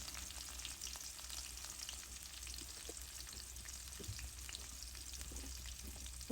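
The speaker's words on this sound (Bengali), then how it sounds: "ভাজা হচ্ছে।" Onion and tomato fry together in oil in a pan, giving a continuous, even sizzle at low level with occasional small crackles and no talking.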